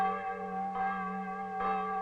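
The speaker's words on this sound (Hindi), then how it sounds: "घंटी की आवाज सुनिए, ये मृतकों के लिए बजाई जा रही है।" A church bell tolls for the dead, giving a sustained ringing tone with a fresh strike roughly every second, each one resonant and lingering with no talk over it.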